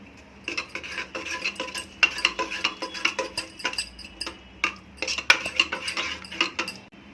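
A spoon stirs vegetables and coarsely ground peanuts in a metal pot, making a run of close, uneven clinks and scrapes with brief pauses.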